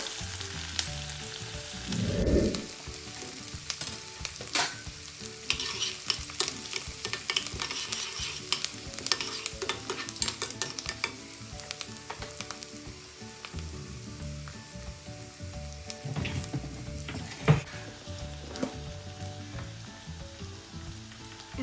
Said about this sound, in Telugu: ఫస్ట్ చాప్డ్ ఆనియన్స్ వేస్తున్నాను.